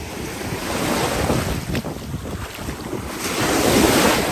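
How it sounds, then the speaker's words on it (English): Large ocean waves break and wash over a rocky beach of small stones on the Greek island of Hydra, a continuous roaring surf with gusty wind noise buffeting the microphone, no voices. "Huge waves."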